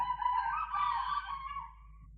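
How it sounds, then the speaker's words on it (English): Hens and roosters in an early-morning setting, a sustained cluster of overlapping clucking and crowing calls at moderate distance, continuous over a couple of seconds with no talk. "the cocks, the chickens, the hens are crowing at this minute or at this moment"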